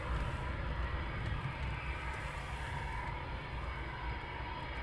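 Eurofighter Typhoon jets pass low overhead at RAF Coningsby, a continuous, dense roar that fills the whole stretch without letting up.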